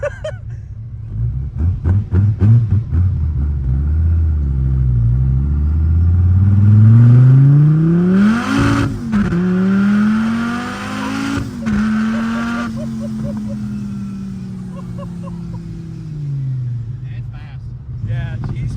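A turbocharged car engine revs and rises in pitch, roaring loudly as it accelerates, with a whooshing blow-off valve release as the throttle lifts, heard from inside the car; people talk over it.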